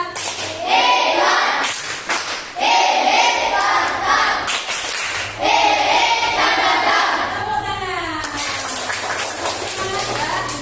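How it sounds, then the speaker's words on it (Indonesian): A classroom group claps together in repeated bursts that rise and fall over several seconds, loud and near, with voices calling out among the clapping. "Tepuk tangan."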